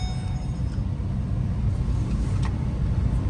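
A car engine rumbles steadily and close as the vehicle pulls away through first and second gear, a constant low drone with no speech.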